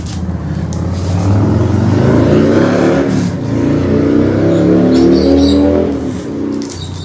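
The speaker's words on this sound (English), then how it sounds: "As you can hear, I live quite near to a road. In fact, I live on a main road" Car on a nearby main road passing close by, a loud, steady engine roar that swells and fades across the whole stretch with no talk over it.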